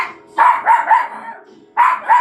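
Bake, a pet dog furious at someone named Bebe, lets out a run of loud, sharp barks close by: three quick barks, a short pause, then two more.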